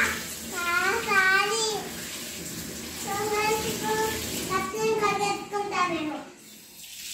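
Fruit being washed in water for a fruit custard, with splashing and running water heard beneath children's voices chattering throughout.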